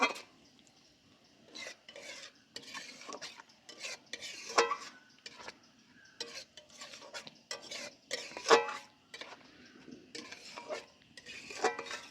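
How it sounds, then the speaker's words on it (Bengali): Spice paste cooked down with whisked sour yogurt in a pan, intermittent spoon scrapes and clinks against the metal over a soft sizzle, irregular stirring strokes with quiet gaps between. "মশলার ওপরে দিয়ে ভালো করে মশলাটা কষে নেব"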